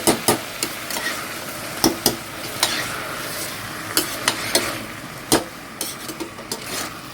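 Eggplant and okra methi curry being stirred in a pan at home, with a spoon scraping and knocking against the pan in irregular clicks over a soft, steady sizzle.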